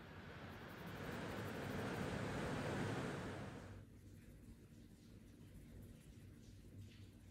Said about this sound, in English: raining a lot, so you might hear the rain in the background